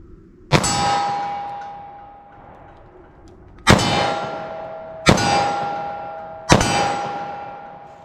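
.38 Special +P+ lead semi-wadcutter hollow points striking a steel target downrange: four loud ringing clangs, each with a sharp attack and a long decaying metallic ring, the first alone and the last three coming faster.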